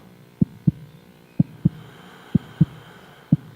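Heartbeat sound, a series of deep, paired thumps repeating at a steady rhythm over a low hum, up close and alone.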